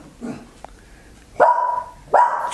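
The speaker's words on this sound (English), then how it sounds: "It's my dog." A dog barks twice in quick succession, sharp and fairly close, after a quieter yip, with no talking around it.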